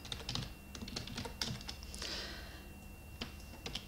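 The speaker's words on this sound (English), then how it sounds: "click Enter, and then you can type here." Someone types on a computer keyboard while working on a website, producing a quiet, irregular run of close clicks and key taps with brief pauses, with no talk.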